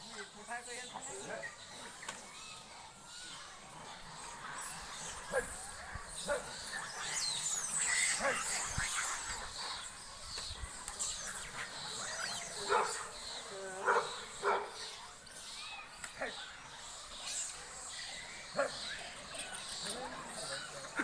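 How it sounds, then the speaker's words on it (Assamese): A dog barks in repeated short bursts as it chases people during a monkey disturbance. Excited voices and distant commotion run throughout, and the barks sit fairly faint under them. "কুকুৰে উল্টা মানুহকে খেদিছে।"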